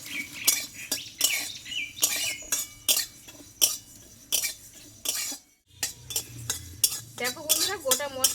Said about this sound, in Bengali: এই মশলাটা একটু ভেজে নিচ্ছি আমি